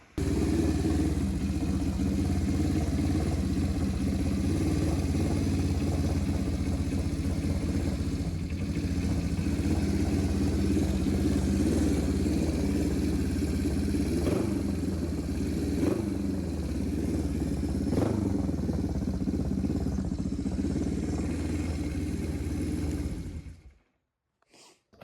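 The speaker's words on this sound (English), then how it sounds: "I imagine you're interested in wanting to know how it sounds" Motorcycle engine idling through a cheap homemade scrambler exhaust, a steady low rumbling burble with a few revs and clattering mechanical noise, close and continuous until it shuts off.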